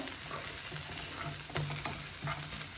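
Beef sautéing in a pan for a quick black beef fry, a steady close sizzle with a few scraping stirs of a spoon across the pan, no voices.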